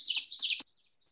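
An ovenbird, a forest-floor nester, gives a quick burst of bright, high chirping notes for about half a second, then falls silent, moderately distant and clear against a quiet background.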